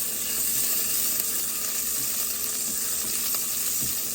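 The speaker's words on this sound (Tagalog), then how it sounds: "Luya, pag nagigisa ako," Ginger sautéing in a pan for tinola makes a steady, close sizzle with a bright hiss that carries evenly from start to finish, with no voices over it.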